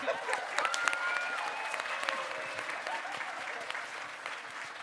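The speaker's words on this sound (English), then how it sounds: "Another round of applause for Duck." Audience applause at a convention masquerade show, a steady dense wash of clapping from a crowd that holds for the whole stretch at moderate level, with a faint tonal whine riding above it.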